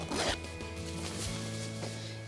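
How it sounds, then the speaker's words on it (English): A hidden stash-pocket zipper on a Marmot women's Trestles 15-degree mummy sleeping bag is pulled in one close, steady rasping run lasting about two seconds, with a quick scratchy burst at the start and no voices. "It's a hidden zipper"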